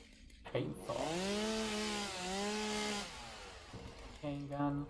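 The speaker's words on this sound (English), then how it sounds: "chainsaw." A chainsaw in the video game Satisfactory revs up and buzzes steadily for a few seconds, loud and close, with a brief spoken aside near the end.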